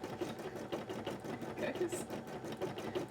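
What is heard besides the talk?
embroidery machine stitching a cosplay embroidery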